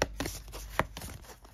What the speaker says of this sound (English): You shuffle these up.